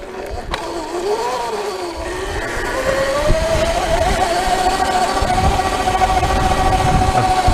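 Sur Ron Light Bee electric dirt bike climbing a hill in sport mode, its motor whine rising steadily in pitch as speed builds over rough ground, loud and close with wind and terrain noise underneath.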